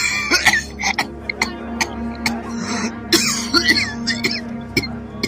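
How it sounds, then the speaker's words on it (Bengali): Repeated harsh coughing and throat clearing from a man who has just drawn on a cigar, performed as a dramatised effect in a Bengali detective audio story; the bursts come in short uneven fits over a faint low hum. "তার কাশি শুরু হলো"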